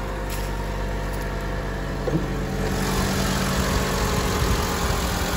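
A 2.5 liter five-cylinder car engine idles steadily after a cold start, a continuous even rumble held close throughout with no talk.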